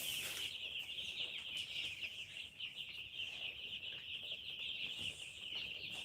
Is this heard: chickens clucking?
yes